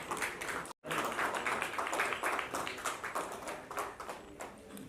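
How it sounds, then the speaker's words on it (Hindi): An audience at a Live Antakshri press conference in Vadodara gives Annu Kapoor a loud, dense round of clapping that holds steady throughout, broken only by one brief cut near the start. "एक बार आप सब स्टैंडिंग ओवेशन और जोरदार तालियों से अनु सर का स्वागत करें।"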